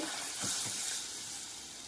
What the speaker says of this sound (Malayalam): ഒന്ന് അമർത്തി കൊടുത്തിട്ട് എണ്ണ അങ്ങനെ കോരി ഒഴിക്കണേ